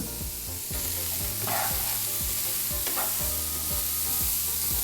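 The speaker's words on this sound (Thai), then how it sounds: "ผัดเห็ดด้วยไฟต่ำกับผัดเห็ดด้วยไฟแรง" Mushrooms stir-fried with a little salt in a hot pan: a steady, close sizzle with repeated rhythmic scraping strokes of a spatula, no voices.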